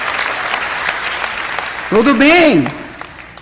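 Dense audience applause at a large televised church event, steady crowd clapping that continues under a speaker's voice, which cuts in partway through and rises prominently before the clapping fades slightly.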